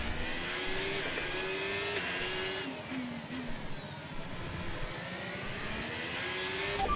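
A race car engine in a racing video game revs hard under acceleration, rising whine stepping up through gear changes, loud and steady without talk.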